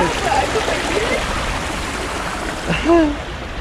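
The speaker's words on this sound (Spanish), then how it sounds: "Y esa agua está corriendo para acá." Hot spring water at Pagosa Springs flows and trickles steadily throughout, with a brief voice and splash-like sounds near the end.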